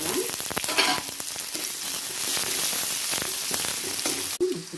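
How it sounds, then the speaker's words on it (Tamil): Chopped large onion and curry leaves sauté in a pan with a dense, even sizzle and frequent scraping strokes of a stirring spoon, close and steady throughout. "பெரிய வெங்காயம் பொடியாக அதுக்குள்ள கருவேப்பிலை ரெண்டையும் சேர்த்து வதக்கிடலாம்"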